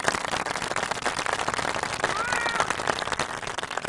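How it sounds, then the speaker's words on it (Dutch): A studio audience applauds for a TV show guest: steady, dense clapping that fills the whole stretch at an even level, with a brief faint whistle partway through. "Geef hem een geweldig applaus, dames en heren"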